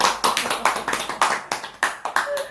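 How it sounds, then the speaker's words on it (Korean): A small group of people clapping hands after a talk, a loose series of sharp, close claps of uneven rhythm, with a brief faint voice near the end. "우리 박수 한번 칠까요?"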